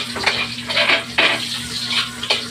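Maya-maya fish frying in a pan, a loud steady sizzle broken by several bursts of spatter and stirring.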